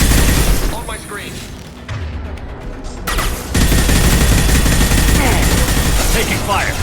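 Heavy gunfire in Mass Effect 2, loud and dense, with sustained bursts, a brief dip partway, then renewed continuous firing and thuds mixed with game voices.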